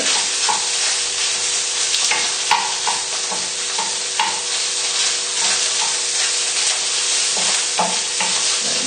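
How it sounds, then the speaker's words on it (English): Sausages fry in a hot pan and are pushed around with a utensil, giving a loud, continuous sizzle broken by repeated scraping and stirring knocks, heard close up with no voices. "straight in with the sausages. And we'll just give these a move around the pan just to check they don't stick."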